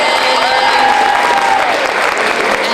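Audience applause for a poet at a high school poetry slam, loud, close clapping from a crowd with scattered cheers and a whistle rising above it.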